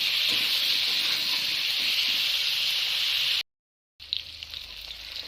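Okra (bhindi) frying in a hot pan, giving a steady bright sizzle that cuts out briefly and then resumes with light stirring crackles.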